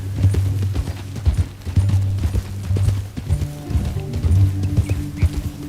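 Horses gallop in Red Dead Redemption 2 with steady, loud clip-clop hoofbeats that run through the whole stretch, mixed with low rumbling game sounds and no voices.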